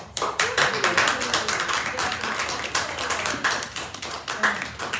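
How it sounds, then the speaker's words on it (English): Applause from a small audience at a live spoken word event in a gallery, steady clapping lasting throughout with some individual claps standing out, fairly close and moderately loud. "So let's have another round of applause."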